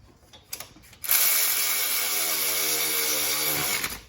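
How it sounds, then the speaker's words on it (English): An electric ratchet spins down the lug nuts on a Chevy car wheel, a loud, continuous whirring buzz lasting about three seconds after a few light taps and clicks, close by with no talk. "Now I'm just running them down with my electric ratchet."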